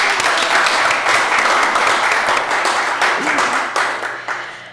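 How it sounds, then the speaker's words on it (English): Steady, loud round of applause from attendees at a Bastrop city council meeting, dense clapping sustained throughout with a few faint voices mixed in. "we're going to have a round of applause"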